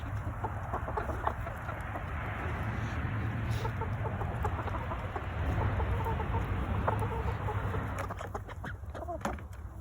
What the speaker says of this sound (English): we have the red sex links, we've got barb rock, and we've got Leghorns.